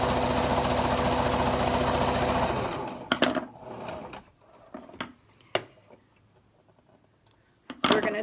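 Sewing machine running a wide zigzag stitch across a fabric mask: steady close whirring motor hum for about three seconds, then stops, followed by scattered clicks and handling noises.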